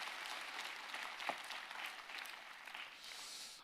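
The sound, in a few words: church congregation applause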